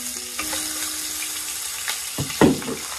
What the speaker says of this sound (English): I'm gonna chuck my lamb straight in to start browning